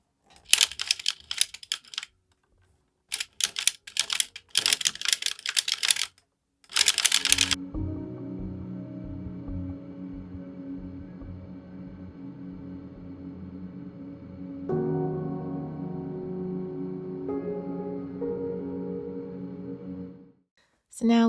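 A circular sock machine cranking out knitted rounds, a steady mechanical whir and clatter running continuously for about twelve seconds after brief talk and handling noises.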